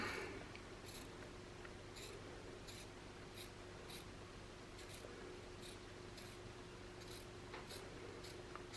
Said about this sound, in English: Cut this little piece out.